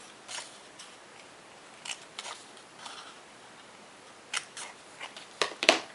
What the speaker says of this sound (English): I'll just cut right there, and then we'll treat each one as a petal.